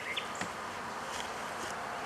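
Honey bees buzzing around a beehive, a dense close hum of many insects with individual bees droning past.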